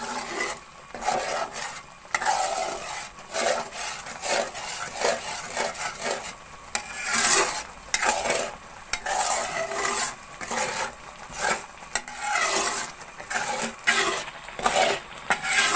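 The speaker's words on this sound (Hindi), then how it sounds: "अब इसको मिक्स कर लेंगे" Semolina halwa is stirred in a pot with repeated scraping and rubbing strokes against the metal, close and rhythmic, with no talking.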